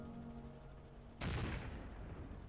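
Tank ammunition cooking off in Stormworks: a single sudden blast at about one second cuts in over a low hum, then trails off into a rumbling decay.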